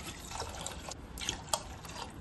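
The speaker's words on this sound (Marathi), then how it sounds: "डाळ शिजवण्यासाठी डाळीच्या दुप्पट पाणी टाकायचं आहे" Water poured into dal, with turmeric, oil and a small tomato, before pressure cooking; a soft, steady splashing pour with a few brief drip-like accents, close and fairly quiet, with no talk.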